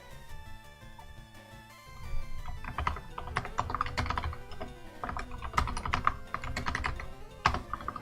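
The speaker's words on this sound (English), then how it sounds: "He's just furiously typing in calcs" Rapid, furious clatter of keys on a computer keyboard, dense bursts of clicking close to the microphone with brief pauses, fairly quiet overall with faint background game music.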